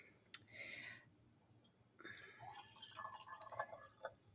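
Water poured into a container for a salinity and temperature density-current demonstration, a short splash then a steady close trickle and gurgle of liquid filling, with a brief click at the start.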